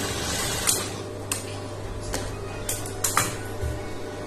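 A sewing machine edge-stitches the folded edge of a blouse lining, with a low steady motor hum and scattered light clicks and taps nearby. The machine stops near the end.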